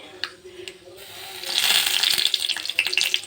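Mustard seeds and asafoetida tempering in hot oil in a pan, crackling and spluttering that swells into dense sizzling pops after a quieter start.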